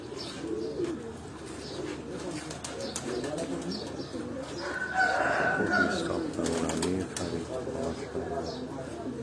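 A rooftop pigeon flock gives soft coos and chirps with brief wing flutters, continuous beneath conversation, with a louder burst of activity midway.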